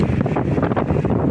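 Steady wind buffets the microphone with a loud, continuous rushing roar and no voices, during net fishing for summer chum salmon.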